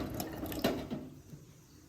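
Water pours into a mixer jar holding grapes, a soft, close trickle and splash lasting under two seconds with no talking.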